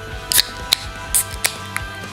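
Beer cans crack open in sharp hissing pops, several quick bursts in a row, close and loud, with little talk around them.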